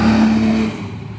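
Off-road vehicles driven by hunters pass by on a rural road, a single car engine rumbling close and loud before fading as it moves away.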